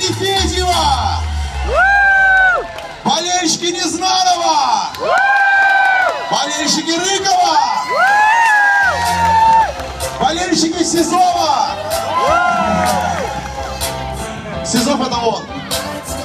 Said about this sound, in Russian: Болельщики Незнанова!